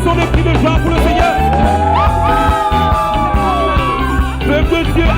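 A church congregation cheers and shouts praise, a loud continuous mass of yells and whoops from many voices with sustained sung or cried tones, filling the whole moment.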